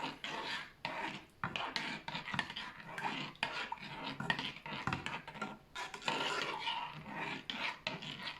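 Stirring cleaning gel mixed with soda crystals in a container, giving quiet repeated scraping and rasping strokes in an uneven rhythm, close and faint with no talking.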